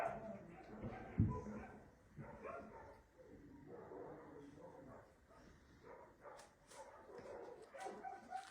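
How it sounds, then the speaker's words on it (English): Two small abandoned puppies with their mother whimper and give soft yips and barks at close range, scattered irregularly beneath a woman's gentle, affectionate talk. "Daisy and her 2 lovely puppies."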